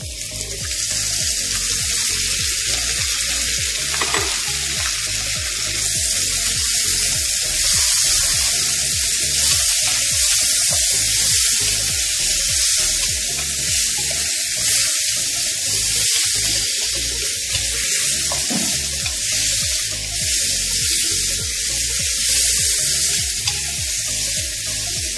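Beef sizzling and frying in a hot pan over browned aromatics, a steady loud crackle throughout with occasional stirring, no voices.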